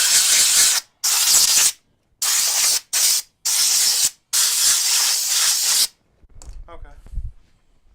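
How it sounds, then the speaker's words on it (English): Compressed air blasts dust off a wooden board in loud, hissing bursts of about a second each, six in a row with brief gaps, followed by quieter rustling and handling noise. "I'm going to go just blow this board off."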